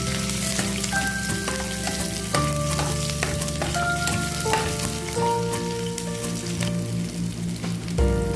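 Garlic and onion sizzling in hot oil in a frying pan (kawali), a loud, continuous crackling fry with occasional stirring scrapes and steady hum behind it, no voices.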